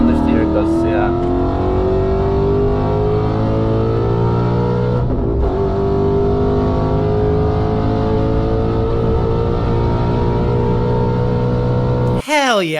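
A Ford Coyote V8 car engine revs and accelerates with a rising, steady drone through the gears, with a brief dip mid-run and a sharp high whine near the end, loud and close from inside the vehicle.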